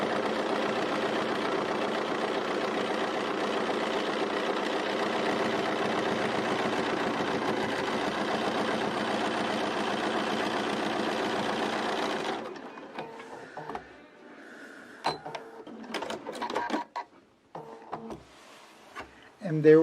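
Sewing machine stitching the backing of a quilt-as-you-go quilt, a steady fast mechanical hum for about twelve seconds, then it stops, leaving quiet handling clicks and rustles.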